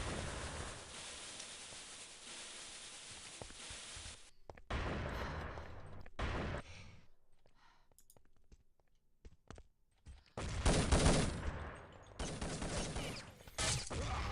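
Rapid bursts of gunfire from a competitive shooter match on the map Orbital, with long dense volleys broken by quieter gaps of scattered single shots and clicks, then fresh heavy fusillades.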